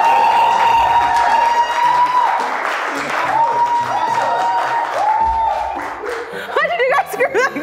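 An audience clapping at a live comedy-style stage show: sustained applause that rises and falls, mixed with a steady whistling tone and voices.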